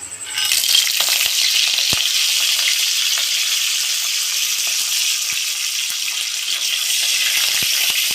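Dry red chillies and curry leaves crackle and hiss in hot tempering oil, a dense, loud, continuous sizzle with occasional sharp pops, close up and without speech.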